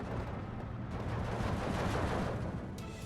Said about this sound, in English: MG42 engaging onto Strelkies again.